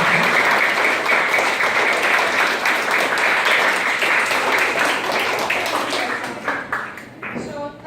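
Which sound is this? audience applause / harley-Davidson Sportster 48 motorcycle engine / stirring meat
audience applause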